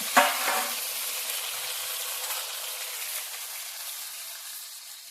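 Kannur-style chicken with tomatoes sizzles steadily in a pan, opening with a sharp stirring scrape and then a loud, even frying hiss throughout.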